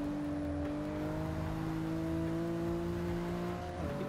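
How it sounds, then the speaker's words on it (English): A steady, loud in-car engine drone of a BMW M2 in the video game Forza 6, with a high turbo whine held at constant pitch, dipping briefly near the end as the throttle shifts. "You can hear the turbo from the inside."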